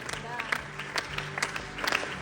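Scattered clapping from an audience at a gathering in Dagestan, short and uneven, mixed with murmuring voices and background music.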